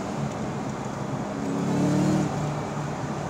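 A 2004 Ford Mustang SVT Cobra convertible engine rises in pitch as it downshifts and accelerates, a steady close drone swelling briefly in the middle before settling, heard alone without talk.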